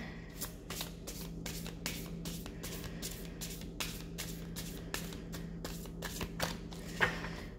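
Deck of playing cards being shuffled: a steady run of about a dozen crisp riffling strokes at a regular rhythm, faint and close, over a low steady hum.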